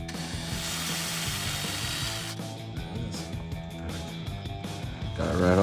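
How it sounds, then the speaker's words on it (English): A power drill bores out a rivet on the windshield header of a Jeep Wrangler JK, giving a steady grinding whine with gritty metallic chatter that surges near the end, without talk over it. "We're drilling that rivet out now."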